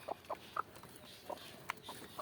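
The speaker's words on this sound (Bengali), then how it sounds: "ওই ওই মুরগিটাকেও ডিমে বসিয়ে দিব, ওটাকেও বসিয়ে দিব।" Farm hens brooding near eggs give soft, quiet clucks: several short, faint calls scattered through a hushed background, with no one talking.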